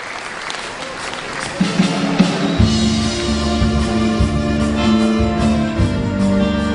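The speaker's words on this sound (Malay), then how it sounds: "Untuk itu kita berikan tepukan gemuruh" A crowd breaks into loud, sustained applause that carries on steadily over a musical tone.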